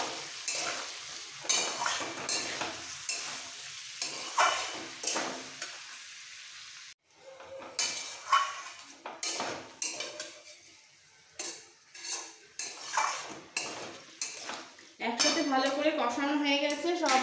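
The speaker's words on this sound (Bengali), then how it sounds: "এক চামচ পোস্ত বাটা একসাথে মিক্স করে ফেলবো" Spoon stirring poppy seed paste and black mustard paste into sukto in a pan, with repeated scraping clinks against the metal and a steady sizzle, louder and continuous near the end.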